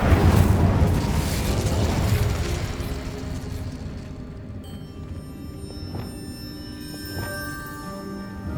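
A fiery blast bursts out when the Incendio fire spell is cast in Hogwarts Legacy, a loud whooshing roar that fades over a few seconds into a lingering magical shimmer and a few soft chimes.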